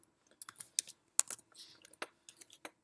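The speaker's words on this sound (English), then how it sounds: "I'm going to quickly just type in Crystal Palace" Keys on a computer keyboard are tapped in quick, uneven clusters of soft clicks, close and fairly quiet, with brief pauses between bursts and no talk.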